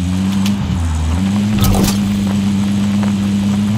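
A vehicle engine in a video game hums steadily at a low, constant drone while driving, loud and close, with a brief burst of noise in the middle.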